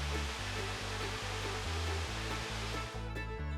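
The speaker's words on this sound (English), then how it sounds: "just behind the visitor center is some waterfalls with the mill in the background" Waterfalls behind a visitor center with a mill nearby in New River Gorge, West Virginia, giving a steady, even rush of falling water throughout.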